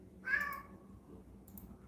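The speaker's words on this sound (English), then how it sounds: "What are you meowing about, Baron von Meows a lot?" A single short, rising meow from a cat, fairly faint against a quiet indoor background, followed by a brief soft rustle.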